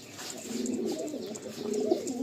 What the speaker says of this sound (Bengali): লালসিরা পায়রা খুব পছন্দের। ছাড়লাম এই নর।